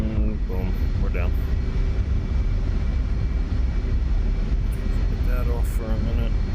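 F/A-18 Super Hornet jet in the DCS flight simulator touching down on a runway, a loud continuous engine roar and rumble, with someone talking over it in bursts.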